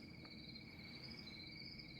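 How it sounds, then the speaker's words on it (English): Steady, continuous cricket chirping from an Aurola sound machine, two sustained high trilling bands looping evenly at a quiet level with no other sounds. "And then the next one is crickets."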